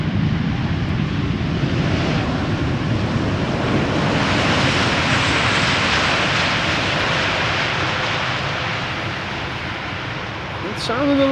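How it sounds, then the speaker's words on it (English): A jet airliner lands at Amsterdam Schiphol with thrust reversers applied, a loud, wide roar that swells through the middle and then eases off near the end, with people talking under it. "Sounded a lot like reversers being applied a little bit."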